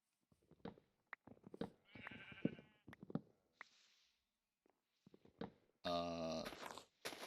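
Sheep bleating in the Minecraft video game, a few short bleats near the end, loud and close, standing alone after scattered game sounds.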